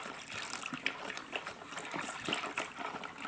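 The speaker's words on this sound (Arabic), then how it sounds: "زي ما احنا بنحط كده الميه، بنحطها واحده بواحده" Water for homemade, chemical-free liquid soap trickles and gushes in gradually, a steady close splashing pour with small irregular surges and no voices.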